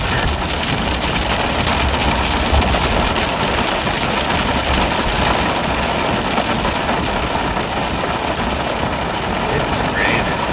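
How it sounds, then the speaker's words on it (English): Heavy rain pours steadily onto surfaces and a vehicle during a night police patrol, a dense continuous hiss close by with a faint engine hum underneath. "It's raining."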